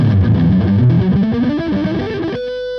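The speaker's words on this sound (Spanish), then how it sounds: "Este equipo tiene un bypass para poder activar el pedal y a la vez tiene el pedal para poder activar la distorsión." Electric guitar played through a TS StompBox distortion pedal, a dense, saturated run of notes sounding loud and close for over two seconds before cutting to a sustained ringing tone.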